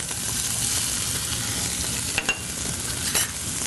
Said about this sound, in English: I'm going to add about 3 slices of chopped smoked bacon.